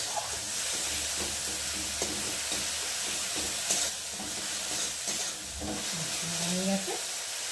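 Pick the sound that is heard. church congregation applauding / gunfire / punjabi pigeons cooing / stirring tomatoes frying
stirring tomatoes frying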